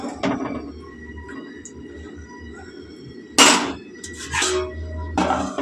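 A lid set over a pan of eggs and potatoes cooking, with sharp metallic clanks and clatter of cookware, a few louder knocks standing out above a low background hum.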